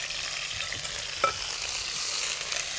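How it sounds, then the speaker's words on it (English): Spicy Korean pancake batter stir-frying in a hot smoking pan, a steady close sizzle with a brief scrape of the utensil partway through, no voices. "You want to hear that sizzle, see the smoke"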